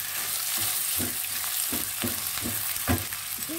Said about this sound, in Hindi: इसको मैं इतना भूनूंगी कि इसका कलर चेंज हो जाए।